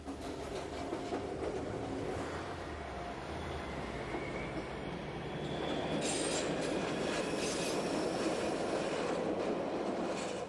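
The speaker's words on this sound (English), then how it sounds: "making our journey to Wasserrauen in one of the latest BDE 44 rail cars" An Appenzell Railways BDe 4/4 rail car runs steadily toward Wasserrauen, heard from inside as a continuous low rumble with faint wheel clatter and occasional squeal, growing a little louder partway through.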